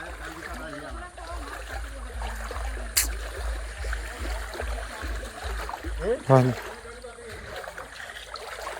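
Flood water rushes through a village in a steady broad roar with occasional splashes, while people talk nearby.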